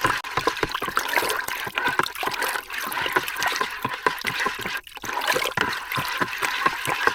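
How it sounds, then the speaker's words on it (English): Homemade wine must stirred with a slotted spoon, giving repeated sloshing, swishing liquid strokes in an uneven rhythm, close and moderately loud, with no talking. "Take my slotted spoon and give it some stirring."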